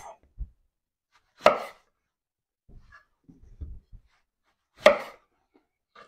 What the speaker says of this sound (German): Wir schneiden hier bei den Auberginen oben den Ansatz etwas ab.